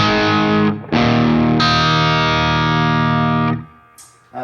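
An electric guitar plays distorted sustained chords through a Bogner Ecstasy Classic amp with the mids and bass turned right up, loud and thick, with a short gap after the first chord and a ringing decay at the end.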